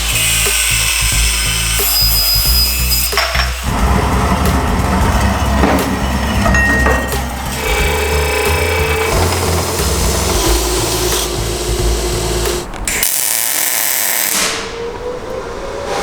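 Power tools cut and angle grind a quarter-inch exhaust pipe in a busy shop, producing loud sustained grinding and clattering metal, with bursts and pauses and a sudden cutoff near the end.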